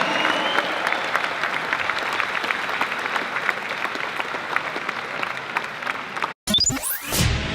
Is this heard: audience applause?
yes